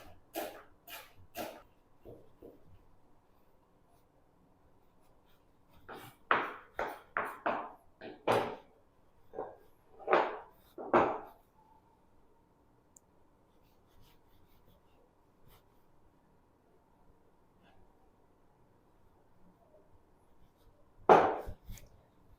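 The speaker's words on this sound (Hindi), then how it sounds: "प्याज को चॉप कर लेंगे।" Knife chopping onion on a board, a run of crisp, close taps in uneven bursts with pauses between, ending in one louder chop.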